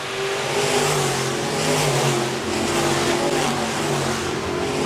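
B-Modified race cars roar around Park Jefferson Speedway in a steady, loud engine drone with pitch that climbs and falls as the pack runs the backstretch and turns.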